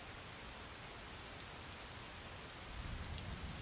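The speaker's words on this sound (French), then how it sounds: "Il pleut sur Paris, une pluie fine, comme un murmure." Fine, light rain falls steadily over Paris, a soft continuous patter with no voices, holding an even hush throughout.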